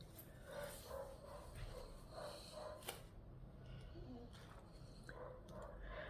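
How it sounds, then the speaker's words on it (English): A dog barks again and again in the distance outdoors, faint, with short yaps spaced through a steady background hiss and no talk over it. "That dog just barks and barks and barks."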